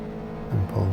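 A Mini Cup race car at Kirkistown pulls through the gears, its engine note rising twice in quick succession over a steady drone, close and loud, with no talking.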